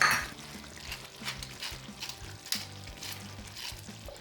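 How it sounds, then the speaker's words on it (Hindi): Meatball sauce for Italian-American spaghetti is stirred in a pan over a medium flame: quiet, irregular scrapes and soft clinks of the spoon with a faint sizzle underneath, and no talking. "फ्लेम को करेंगे हम मीडियम और इसे हम इस तरह मिक्स कर लेंगे।"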